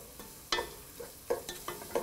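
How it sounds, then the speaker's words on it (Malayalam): Ground pepper, coriander, chilli powder and garam masala sauté in a pan for a mutton kurma, with soft sizzling broken by several sharp spoon-stirring scrapes spaced irregularly, fairly quiet and close. "കുരുമുളക് പൊടി, മല്ലിപ്പൊടി, മുളക് പൊടി, ഗരം മസാല എന്നിവയിട്ട് വഴറ്റുക."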